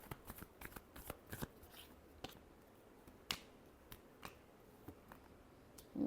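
Tarot cards shuffled by hand in a quiet room, a series of faint, sharp flicks and snaps spaced irregularly over several seconds.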